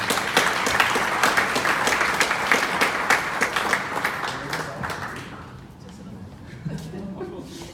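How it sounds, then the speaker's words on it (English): An audience at an Africa Night event applauds its panelists with loud, sustained clapping for about five seconds, then the sound tapers off into quieter murmuring and a few scattered claps. "let's give a big round of applause for our panelists"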